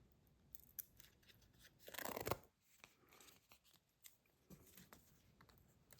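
Scissors snip through paper for a handmade card, close and quiet, with a longer crunchy cutting stroke in the middle and a few lighter clicks and rustles around it.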